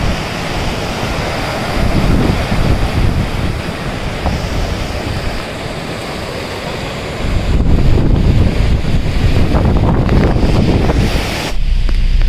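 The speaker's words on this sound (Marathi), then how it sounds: "श्लोकाने अथर्व दोघं गेली आता समुद्रात" Surf washing in at Devbag beach, a broad, continuous roar of breaking sea waves with strong wind buffeting the microphone, swelling louder near the end; no talk.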